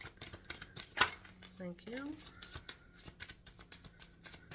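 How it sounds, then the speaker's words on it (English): A deck of tarot cards being shuffled by hand in repeated quick riffles and slides, close and crisp, with a brief spoken thanks and a short tonal chime partway through. "Shuffling for the Gemini collective."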